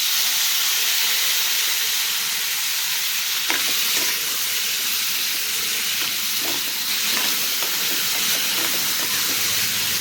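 Chopped tomatoes hit hot oil and set off a loud, continuous hissing sizzle that holds steady throughout, with a few brief stirring clatters over the top.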